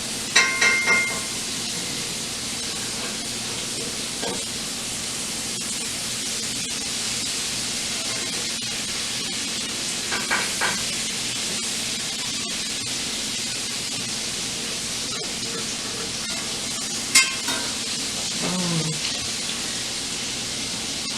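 Butter with garlic powder sizzles in a pan in a home kitchen as ribeye steak cooking gets under way, making a steady, even hiss with a few faint clicks and clinks scattered throughout.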